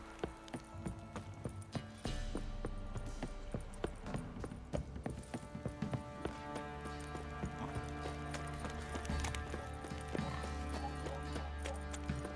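Horse hooves clip-clop at a walk in The Witcher 3 fantasy game, faint and steady under background music, with a brief voice line.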